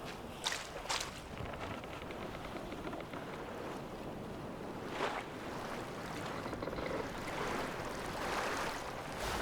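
Boat sailing across open water in the survival game Survival: Fountain of Youth, a steady wash of water and hull noise with soft lapping and splashing, a few brief brighter splashes, and no talking.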